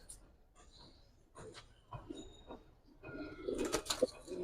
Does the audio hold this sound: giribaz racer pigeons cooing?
yes